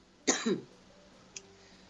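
A single close, sharp cough with a quick second burst, followed by a faint short throat sound in a quiet radio studio during a radio program in Menorca, Spain.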